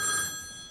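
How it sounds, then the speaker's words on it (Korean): A telephone rings with an incoming call, a brief burst of bright electronic trilling that fades slightly, heard alone without voices. "걸려온 전화."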